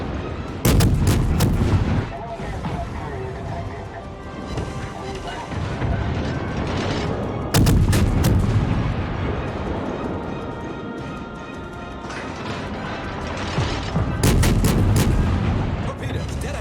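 Heavy naval gun salvos from the Japanese cruiser Tenryū in World of Warships boom out in loud bursts, with several sharp cracks clustered near the start, middle and end, over a constant roaring rumble of battle noise.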